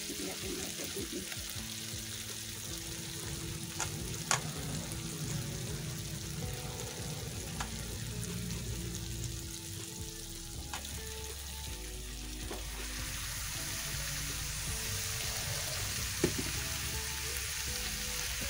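Boiled jackfruit for a curry frying in a pan, a steady close sizzle with scraping stirs and occasional clinks of the spatula throughout, no voices.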